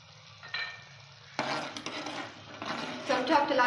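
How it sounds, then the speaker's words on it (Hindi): Flour is stirred into desi ghee in a pan with a utensil, giving soft scraping and clinking strokes against the metal and a light sizzle that grows busier after a brief quiet start. "आप चलाते जाइए कि ताकि इसके आटे की गुठलियां ना बने"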